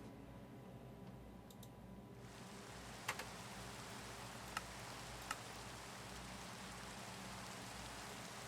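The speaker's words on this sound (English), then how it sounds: "it is raining and dark" Steady rain falls in the Minecraft video game as a soft, even hiss, with a few sharp keyboard clicks on top.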